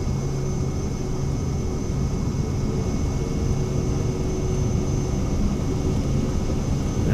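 A simulated airplane engine running at full takeoff power in Microsoft Flight Simulator 2020, departing Port-au-Prince, Haiti; a loud, steady, unbroken roar holds for the whole stretch with no one talking.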